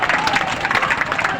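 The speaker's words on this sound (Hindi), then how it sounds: "थोड़ा इन्हें जोरदार ताली से स्वागत करेंगे डॉक्टर अरविंद पंडित जी।" Applause for a speaker being welcomed at a rural medical practitioners' protest rally, a dense, steady clatter of many hands clapping throughout, with some crowd noise mixed in.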